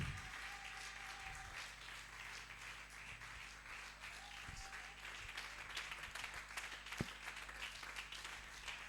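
Sustained applause and ovation from an audience at an indoor excellence-day award ceremony, a steady wash of clapping that holds at an even level for the full stretch with occasional sharper claps.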